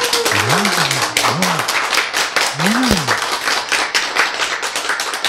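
An audience at a Korean lecture claps, sharp dense handclaps going on throughout at close range, while sliding musical tones sound near the start.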